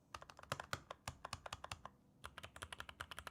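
Keys clack on an Epomaker Carbon 60 keyboard with DSA keycaps, in quick irregular bursts that stop briefly partway through and then pick up again, close and crisp with no voices.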